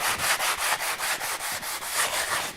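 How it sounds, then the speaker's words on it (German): Steady rhythmic sanding strokes with a sponge on a primed panel, a dry scratchy rasp repeating about five times a second, close up and continuous with no talking. "Und das Ganze müssen Sie jetzt mit einem Schwamm abschleifen."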